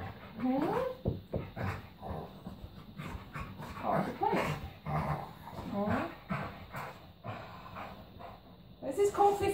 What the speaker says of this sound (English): This is my guard dog.